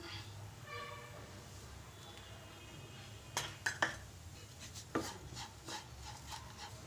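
Spoon stirring salt into a green gram and beetroot dish in a pan, heard as faint, scattered scrapes and a few sharp clinks against the metal in a quiet kitchen.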